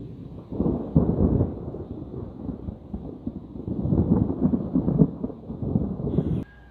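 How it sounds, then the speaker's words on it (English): Deep rolling thunder from a Florida storm rumbles in long swelling waves, building, easing and surging again before cutting off, loud and unaccompanied by voices. "Need some thunder."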